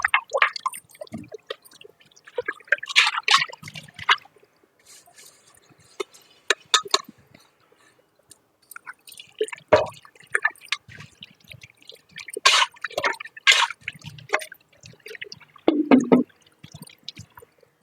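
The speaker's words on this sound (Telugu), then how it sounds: "కందిపప్పు నీళ్ళు కూడా పోసేస్తాం." Cooking water from boiled toor dal is poured into a pot of sambar, heard as sporadic splashing and dripping bursts between quiet gaps, close by, with no talk.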